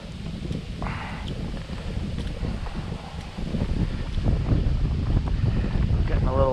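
Wind blows across a small fishing boat on Middle Bolton Lake, making continuous rushing, buffeting noise against the microphone that grows slightly stronger over the seconds.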